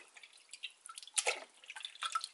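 Water drips into a bucket in a quick, irregular patter of small, close splashes, with no talking.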